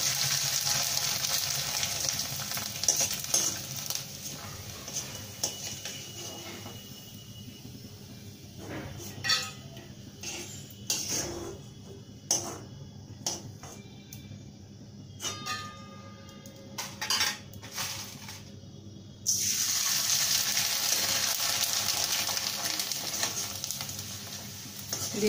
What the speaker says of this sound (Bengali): এখন পাপড়গুলো আমি আপনাদের ভেজে দেখাচ্ছি। তেল গরম হয়ে গেছে, এখন আমি অল্প অল্প করে পাপড়গুলো ছেড়ে দেবো আর ভাজবো।